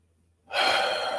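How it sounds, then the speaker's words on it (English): A single deep breath drawn in during a guided morning prayer, starting abruptly after near silence and holding as a long airy inhale, close and clear, with no words. "Let's take a breath together"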